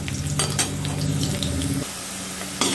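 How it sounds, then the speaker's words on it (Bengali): Snacks fried in oil in a pan hiss and sizzle as a spatula stirs them, with scraping and a couple of clinks against the pan, close by and without talk. "একটু নাড়িয়ে দেব, লেগে না যায়।"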